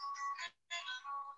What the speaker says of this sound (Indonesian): ada telepon pula